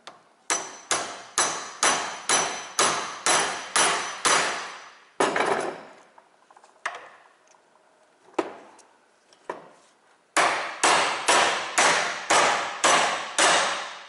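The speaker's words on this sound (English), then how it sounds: "And then hammer it down." Rapid bursts of sharp metallic hammer blows driving a U-joint cap into place on a 1995 Jeep Cherokee XJ, around eight strikes in quick rhythm, a pause with a few scattered knocks, then another fast run.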